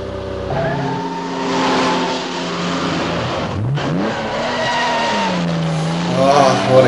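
Car tyres screech and skid in the 1964 film Goldfinger, with long, wavering squeals rising and falling over engine revving and loud, continuous action sound.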